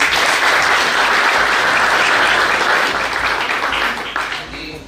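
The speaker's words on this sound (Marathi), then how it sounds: "त्याबद्दल आपण सर्वजण एकदा जोरदार टाळ्या वाजवू." Loud, dense applause from an audience at a public felicitation event, sustained clapping for several seconds that begins to thin out toward the end.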